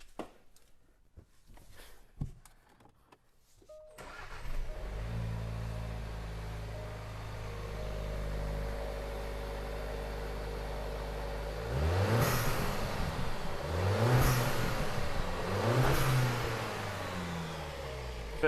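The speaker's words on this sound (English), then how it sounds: "Let's listen to the sound of this engine." After a few clicks, the four-cylinder engine of a Jaguar E-Pace starts and idles, then revs repeatedly, rising and falling in several sweeping bursts, close and fairly loud.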